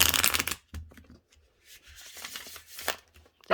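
Cards from a Memento Mori Lenormand oracle deck are shuffled close by in short riffling bursts, a loud rush at the start and then softer, broken flutters of card against card.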